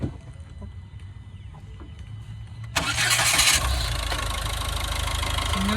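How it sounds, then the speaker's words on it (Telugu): A 2018 Ford EcoSport Titanium being started, a quiet idle-like hum first, then a brief whirring crank that catches into a steady, smooth idle, close by and with no talking. "స్టార్ట్ అవుతుంది బండి."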